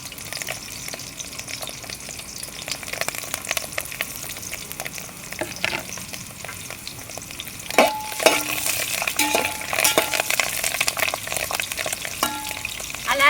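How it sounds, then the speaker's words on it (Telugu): Onions, green chillies and curry leaves frying in a pan give a continuous close sizzle with occasional stirring scrapes, growing louder and spattering near the end. "ఆనియన్, పచ్చిమిర్చి అయితే వేగుతున్నాయి కదండి, దీంట్లోకి కరివేపాకు కూడా వేసేసుకుందాం"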